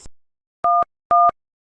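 A mobile phone keypad sounds two short, identical dual-tone beeps, evenly spaced about half a second apart. They are crisp and close, with brief silence between them.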